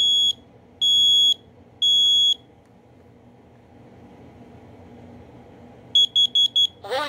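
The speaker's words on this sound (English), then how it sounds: "Combo smoke and carbon monoxide alarm. It's ionization, by the way." Ionization combo smoke and carbon monoxide alarm, horn muffled under a pillow, sounds three long loud beeps, then falls quiet before a quick burst of four shorter beeps, with a faint voice near the end.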